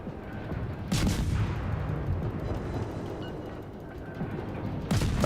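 Ship guns fire in a naval video game, heavy booming volleys that rumble on with a long low roll, two sharp blasts marking the start and end of the barrage.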